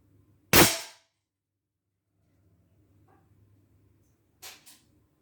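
One loud, close report from an Umarex Hammerli 850 Airmagnum 16-joule CO2 air rifle, decaying quickly into quiet, with a pair of softer clicks a few seconds later.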